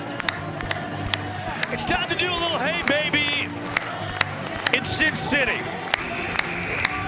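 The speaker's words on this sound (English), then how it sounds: "Let's get those hands clapping." Crowd clapping along at a live party show in Las Vegas, sharp scattered claps spread through the clip, with an announcer talking and cheering in the background.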